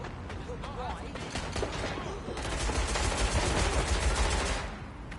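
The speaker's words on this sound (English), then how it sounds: "Gunshots! Help!" Gunfire bursts in the game Watch Dogs Legion, a dense fusillade of rapid shots and automatic fire rolling on for several seconds over a busy game soundtrack, with voices calling out amid the shooting.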